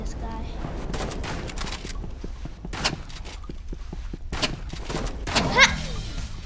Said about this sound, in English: this guy's spamming shotgun, and I don't even have shotgun, bro